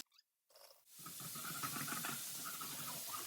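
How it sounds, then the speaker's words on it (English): Chopped onions and spring onions hitting hot oil in a pan, a short hiss followed by a sustained, loud, steady sizzle with crackling pops, close up. "I'll throw in my onions, my spring onions."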